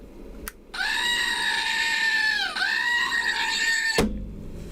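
A screaming goat sound effect lets out one long, loud, strained bleat-like cry that wavers and dips midway, with a short click before it and an abrupt cutoff after.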